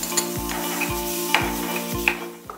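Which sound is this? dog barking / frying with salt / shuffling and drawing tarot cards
frying with salt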